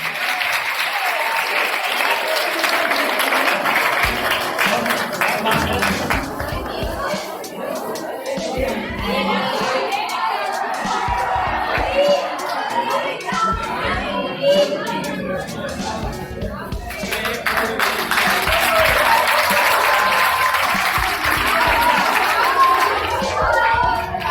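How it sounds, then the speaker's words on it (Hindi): Loud, sustained applause fills a school annual function as a crowd claps for a teacher, dense and continuous throughout, with children's chatter and voices mixed in. "मैम के लिए तालियां हो जाए जोर से"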